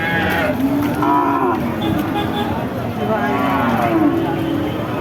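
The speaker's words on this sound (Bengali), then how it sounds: "মোটা ফ্রেমের একটা গরু দর্শক আপনারা দেখতে পাচ্ছেন" A cow moos loudly several times, long low drawn-out calls, amid a noisy crowd of people talking and bargaining at the Satmile cattle market in Bangladesh.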